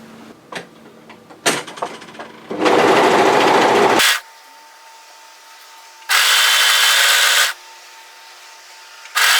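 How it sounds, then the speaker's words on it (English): An overlocker serging the edge of a sleeve on a sweatshirt hoodie dress, with two steady, loud bursts of fast whirring, preceded by clicks and fabric handling, all close to the microphone. "we're going to go to our overlocker and overlock this edge here"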